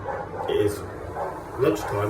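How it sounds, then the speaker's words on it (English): A dog barks in repeated yips and bow-wows through the whole stretch, loud and close, with a person talking over the barking. "this dog has been barking for literally 2 hours"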